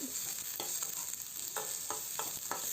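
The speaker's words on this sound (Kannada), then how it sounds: "ಬೇಯಿಸಿರುವಂಥ ಕಾಳನ್ನ ಇದಕ್ಕೆ ಹಾಕಿ ಫ್ರೈ ಮಾಡ್ಕೊಳೋದು" Boiled pigeon peas fry in a pan with a steady sizzle, while a spoon scrapes and stirs in several quick, regular strokes.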